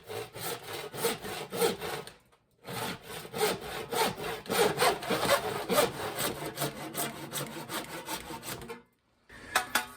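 A handsaw cuts a piece off in quick, even back-and-forth strokes, close and clear. A short pause splits the run, and sawing continues after it with no voices.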